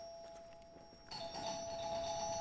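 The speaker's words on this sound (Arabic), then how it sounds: "ما حد يحرق جرس الباب الا عباس" A doorbell chimes twice in a quiet room, a soft first tone followed by a brighter, louder second ring that lingers and rings out until the end.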